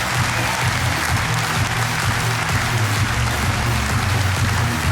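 Sustained applause and crowd noise from the Dreamhack Winter 2014 esports audience, a thick, even wash of many hands clapping with a low crowd rumble underneath throughout.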